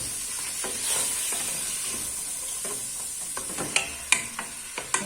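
Onion frying in butter and oil with garlic and bay leaf, a continuous close sizzle with a soft steamy hiss, punctuated toward the end by several sharp scrapes and taps of a spoon stirring the pan.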